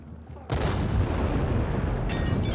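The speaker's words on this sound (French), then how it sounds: "On va essayer les grenades alors" A grenade detonates in the video game Dying Light 2, giving a sudden heavy boom that hangs in a dense rumbling roar for a couple of seconds, loud and close, with a second burst near the end.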